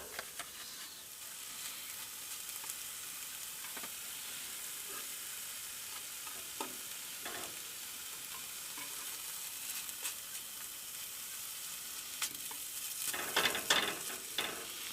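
Sausage, eggs and mushrooms fry together in a pan, giving a quiet, steady sizzle with occasional soft clinks and crackles, and a brief louder spatter of movement near the end.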